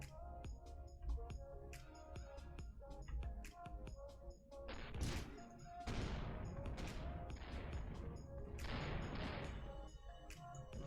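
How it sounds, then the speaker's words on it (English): Rapid volleys of gunfire from ships in the space game Avorion crackle and thump in dense overlapping bursts, swelling into heavy barrages with crashing impacts, loud and continuous throughout. "Something is shooting at something."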